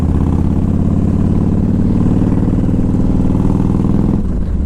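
A 2000 Harley Davidson Ultra Classic motorcycle engine running on a ride, a loud, steady low rumbling throb that holds evenly throughout before easing slightly at the very end.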